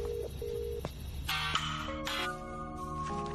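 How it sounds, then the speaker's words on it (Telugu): A telephone is dialled for a call, producing a short run of distinct electronic beeps and tones, one after another, in a quiet indoor setting. "నేను దానికి ఫోన్ చేసేస్తాను భయ్యా."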